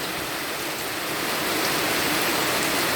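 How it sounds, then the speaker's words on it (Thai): Steady rain falls around a rural house in the sixth month, a dense, even hiss that is close and moderately loud and holds constant without pauses. "บรรยากาศฝนตกดีดี ฝนตกดีเดือนหกมาเลยพี่น้อง"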